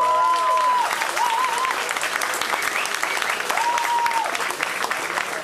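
Steady applause from a live audience for a stage performer, sustained and dense throughout, with a few whistling tones rising above the clapping early on and again near the end.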